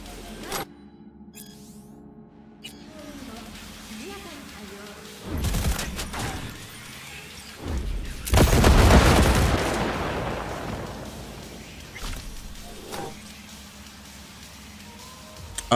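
Bursts of gunfire from a weapon in Cyberpunk 2077, with a sharp shot near five seconds and a loud, dense volley around eight to ten seconds, followed by scattered later shots over game ambience and some talk.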